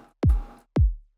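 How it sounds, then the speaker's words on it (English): A synthesized kick drum built in Serum, EQ'd to cut the mids and given added treble, thumps twice with deep booming hits that decay quickly, clear and isolated. "I've made myself a kick drum"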